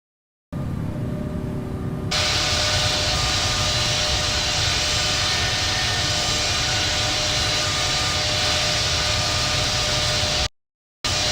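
American Airlines Boeing 777-200 taxiing in the Infinite Flight simulator, a steady broad jet engine roar that swells after a quiet start and holds evenly, ending in a brief dropout.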